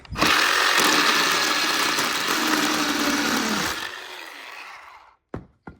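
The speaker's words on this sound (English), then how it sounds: "then I remembered I had this chainsaw." A loud chainsaw roars steadily through a wooden post for several seconds, then cuts off, followed by two sharp knocks.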